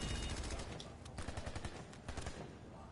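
Rapid automatic gunfire from the Lynx in Planetside 2, loud and dense bursts of repeated shots filling the clip with no talk over them.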